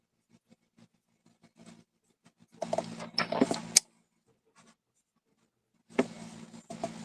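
Paper for a card base is cut in short scraping bursts and soft rustles with quiet taps between them, close and fairly faint, with no talking.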